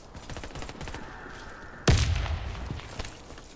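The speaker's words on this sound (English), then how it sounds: "I just grenade." A grenade blast in the shooter game Warface, with a sharp, loud explosion partway through, followed by rattling gunfire and a decaying rumble.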